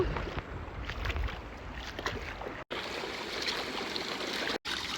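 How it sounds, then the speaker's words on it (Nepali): A stream rushes and gurgles continuously nearby, a dense watery wash that fills the whole stretch. "यहाँ चाहिँ नेचुरल एकदम राम्रो खोला बगिरहेको छ।"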